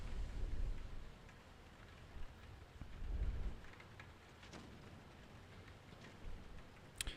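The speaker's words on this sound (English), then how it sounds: "it's raining really heavily" Heavy rain outside comes through as a soft, steady wash heard from indoors, with low rumbling swells that could be distant thunder rising and fading, faint but continuous and with no talk.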